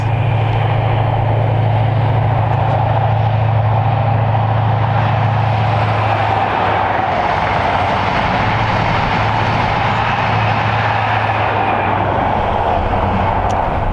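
An HST power car in old Intercity livery passing on the Midland Main Line, a loud, sustained diesel roar with a steady low engine hum that eases slightly partway through, with no talking.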